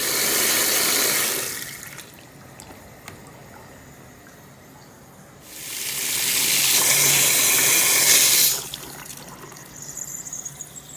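Water from two hoses rushes into a large African cichlid aquarium during a big water change, loud gushing in two long spells with a quieter trickle between and after.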